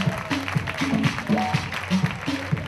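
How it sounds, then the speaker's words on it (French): An audience applauds at a fashion show. The clapping is continuous and moderately loud, with pulsing music and some voices underneath. "Applaudissements s'il vous plaît."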